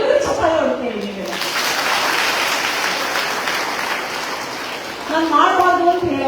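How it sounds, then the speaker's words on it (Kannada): An audience at a public talk breaks into sustained applause for about four seconds, a dense wash of clapping with a speaker's voice just before and after it. "ಎಲ್ಲರೂ ಚಪ್ಪಾಳೆ ಹೊಡ್ಕೊಳ್ಳಿ"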